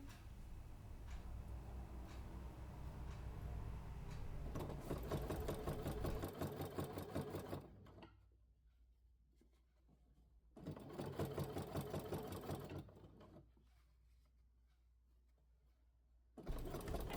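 A home sewing machine stitches purple leather for a handbag in rapid whirring bursts, with a long run of stitching, a pause, another burst, a second pause, and a final start, each run loud and close.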